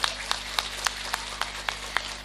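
Clapping at an Indonesian religious talk, sharp claps in a steady, evenly spaced rhythm over a low electrical hum, fairly close and moderately loud.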